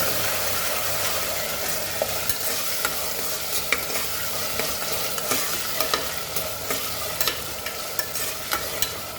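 Onions frying in a pan while making tomato rice, a steady close sizzle with scattered small pops and stirring scrapes throughout, no talking.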